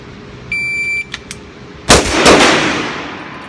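Two loud, sharp shots from a Sig Sauer .357 pistol, fired close together under a brief electronic timer beep before them, with ringing reverb trailing off.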